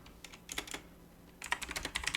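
Typing on a computer keyboard, a quick run of light clicking keystrokes in two short bursts close by, with a brief pause between them and no talking.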